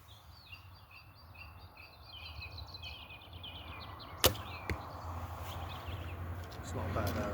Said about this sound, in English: Shoot some more arrows.